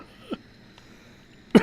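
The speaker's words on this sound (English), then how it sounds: "Cough, cough," A short faint cough near the start, then quiet, followed by a sharper, louder cough at the end.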